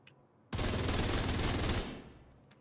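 Sustained burst of rapid video game gunfire aimed at headshots, loud and dense for about a second and a half after a quiet start, then cutting off to a faint tail.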